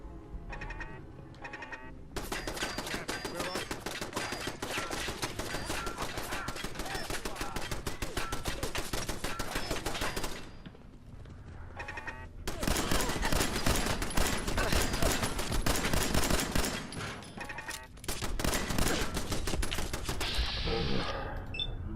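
Gunfire in the video game Fallout 4: loud sustained automatic bursts of rapid shots in two long volleys separated by a brief lull, with scattered single shots at the edges.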